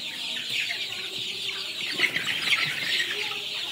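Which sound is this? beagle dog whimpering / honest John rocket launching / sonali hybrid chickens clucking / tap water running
sonali hybrid chickens clucking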